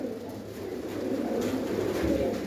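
A female pigeon coos steadily up close, a low continuous burbling that runs on without pause over a faint room hum.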